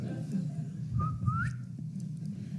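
A person whistles an imitation of a quail call, a short rising whistle repeated twice over a low steady room hum at an indoor meeting.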